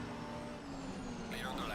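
A race car engine drones steadily alongside in the sim-racing game Assetto Corsa Competizione, a continuous mid-level roar with a voice talking over it.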